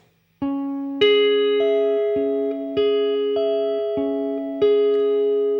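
Plucked guitar notes in an even, steady picking pattern, each note ringing into the next, close and clear with no voices.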